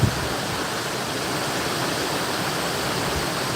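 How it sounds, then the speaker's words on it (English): Steady, dense rush of falling water from waterfalls, a constant broadband roar heard up close with no talking. "Give you one last view of the waterfalls before you go"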